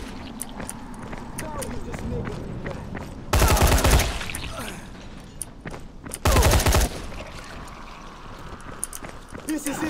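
The player's gun fires in Dying Light: two loud, rapid bursts of gunfire a few seconds apart, close and sharp against a background of footsteps and movement, with voices nearby.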